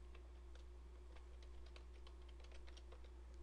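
Someone types an email address on a computer keyboard, a quiet run of light, quick key taps over a steady low electrical hum.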